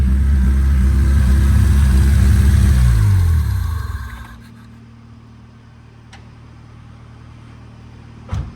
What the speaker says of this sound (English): Now that we got the limo running